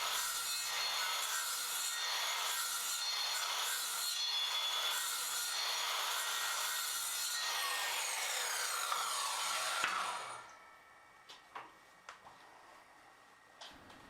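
A circular saw cuts let-ins across pine tongue-and-groove boards, giving a steady, loud, rasping whine for about ten seconds. It then cuts out, and a few faint knocks and clicks follow in the quieter room.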